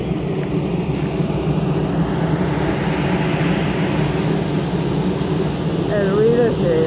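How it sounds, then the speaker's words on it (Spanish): Steady broadband rush of water flowing through a park fountain in Diagonal Mar, Barcelona, a continuous even wash heard outdoors close by, with a voice speaking briefly near the end. "El ruido es el agua."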